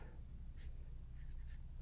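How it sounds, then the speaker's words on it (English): A Sharpie marker writing on a surface, brief faint squeaky strokes over a low background hum. "It doesn't want to write. We'll use a Sharpie."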